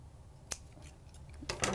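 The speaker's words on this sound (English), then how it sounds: "we're gonna put just small little slits in each corner" Scissors make a few small slits in the corners of sublimation paper: quiet, sharp snips, one near the start and a quick pair at the end, in a hushed room.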